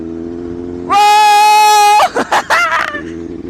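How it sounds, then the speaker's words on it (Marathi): A Benelli 600i superbike engine holds a loud, close, steady high-pitched rev for about a second, then snaps through three quick sharp throttle blips before settling back to idle. "भाई गाडी काय बोलते खतरनाक जबरदस्त"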